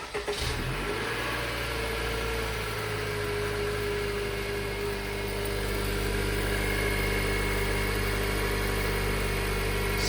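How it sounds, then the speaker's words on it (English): A Honda CR-V with the 1.5-litre turbo engine starts cold by remote, catching with a brief rise in revs, then settling into a loud, steady high idle with a faint whine. "I thought I'd do a cold remote start."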